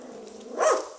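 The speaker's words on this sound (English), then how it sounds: "Ooh, are you barking?" A three-week-old puppy gives one small, high yip-like bark, close and brief, after a soft whimpering murmur.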